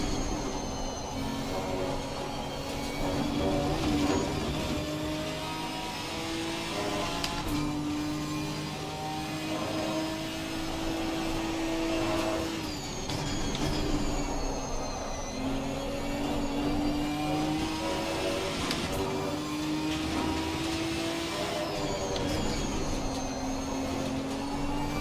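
A Ginetta race car in Assetto Corsa Competizione drones through a lap around Donington, its engine note rising and falling repeatedly through gear changes with whine and tire noise, loud and continuous, no voices.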